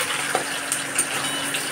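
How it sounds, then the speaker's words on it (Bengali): Pangas fish fries in hot oil in a pan, a steady close crackling sizzle with a few small pops and no talking. "মাছটা ভাজা ভাজা হোক"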